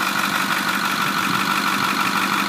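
The engine of a 2008 Ford F550 truck with 139K miles and no blow-by idles steadily and continuously, a close, even drone with no change in pace and no one speaking.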